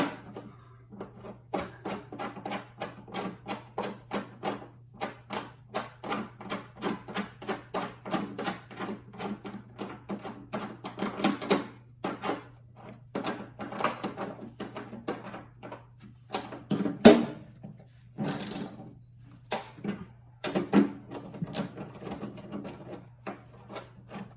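A bolt threaded by hand into tapped holes while fitting D-ring anchors on a Can-Am Maverick XL, heard as rapid repeated close ratcheting scrapes that come in bursts with short pauses.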